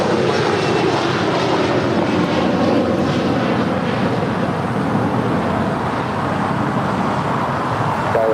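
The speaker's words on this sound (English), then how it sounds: "Runway 25 left, clear for takeoff." A jet airliner roars on its takeoff roll from runway 25 Left at LAX, a loud, steady broadband rumble of engines that holds through the whole stretch, with no talk over it.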